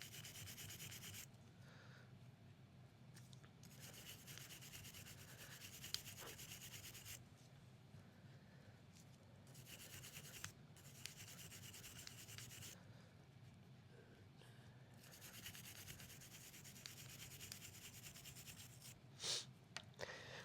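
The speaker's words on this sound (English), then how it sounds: "go ahead and give the front of the cylinder a real good scrubbing" A brush scrubs the front of a Taurus Raging Hunter revolver cylinder in quick, rhythmic rubbing strokes, fairly soft and close, with brief pauses between bursts and no voices.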